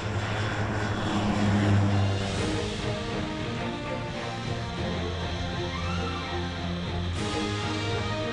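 A propeller airplane drones steadily nearby during a tandem parachute jump, a loud continuous engine hum with strong low tones and a rising and falling pitch, holding throughout with no talking.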